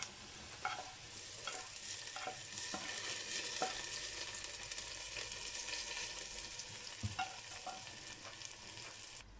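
A hot tadka of onion, green chili and curry leaves hits the kadhi with a soft, steady sizzle, broken by occasional clinks and scrapes of stirring, quiet and close.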